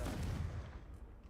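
A Confringo blasting spell from Hogwarts Legacy bursts in one loud, booming impact with a low rumbling tail that fades over about a second.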